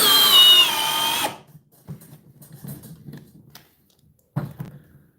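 A hammer drill, one of a Milwaukee 2904, Dewalt DCD1007 and Flex FX1271T tested against each other, roars loudly for just over a second, then stops. Faint clatter and handling knocks follow in near quiet.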